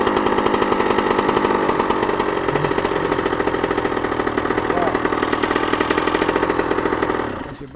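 A 2001 Honda CR250 two-stroke dirt bike engine runs up close with a loud, raspy, steady buzz that cuts off sharply at the very end.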